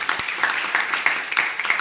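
A church congregation claps for a short burst, steady patters of hand claps reaching a little over a second and a half, with no talk over it.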